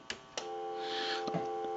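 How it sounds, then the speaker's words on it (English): Spirit of St. Louis novelty telephone producing a steady dial tone after two soft clicks of the hook, a faint sustained hum with a couple of light taps near the end, no talking. "we want to go ahead and hang up we want to give dial tone"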